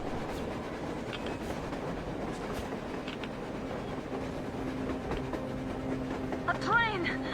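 A train travels on the surface in the video game Metro Exodus with a low rolling rumble and clatter, then high metallic wheel squeals near the end, under tense speech.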